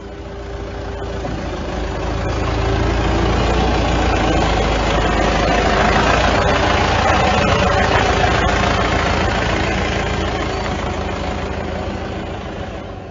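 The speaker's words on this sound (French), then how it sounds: "surtout des bruits de moteurs, beaucoup de bruit donc apparemment beaucoup de moteurs" A dense, continuous roar of many engines running together, low and rumbling, swelling in the middle and easing slightly toward the end.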